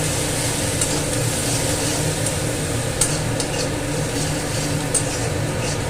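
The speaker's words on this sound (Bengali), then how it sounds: "ভালো করে পেঁয়াজটা ভাজবো" Onions frying in a pan sizzle in a steady, close crackle, with a couple of light clicks from stirring and no voices.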